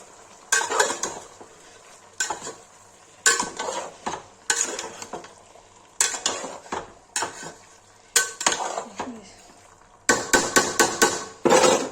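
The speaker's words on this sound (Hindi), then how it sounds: "इसमें दही डाल रहा है। चला देंगे।" Yogurt being stirred into Kashmiri-style chicken curry with onion in a metal pan, a spoon scraping and clanking against the pan in repeated bursts of strokes with short pauses, close and fairly loud, no talking.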